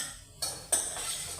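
Masala spices stirred and fried in a pan for a green moong curry, with two quick scraping clinks of a spoon against metal over a quiet background.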